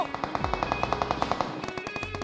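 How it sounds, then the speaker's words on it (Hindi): Rapid automatic gunfire in the PUBG Mobile (BGMI) battle royale game, a steady stream of evenly spaced shots through the first half, then thinner, scattered bursts, fairly close and loud. "ऊपर में भी गोली चल रही होती है"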